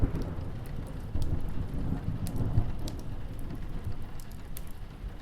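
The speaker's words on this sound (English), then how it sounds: "There is a large clap of lightning and thunder, and the storm has arrived." Steady rain patters on surfaces with a low rumble of thunder rolling underneath, a continuous storm ambience with no voices.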